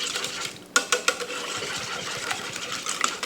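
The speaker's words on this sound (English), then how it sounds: "We're going to give that a little stir." Eggs and brown sugar stirred together in a bowl for bourbon French toast, with a run of light clinks and taps from the utensil against the bowl, close up and without talk.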